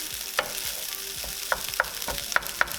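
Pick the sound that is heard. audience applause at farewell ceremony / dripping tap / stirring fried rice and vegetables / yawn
stirring fried rice and vegetables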